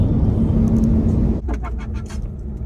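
Ford Mustang GT V8 idling from inside the car, a loud low rumble that eases slightly partway through as lighter cabin sounds come in over it.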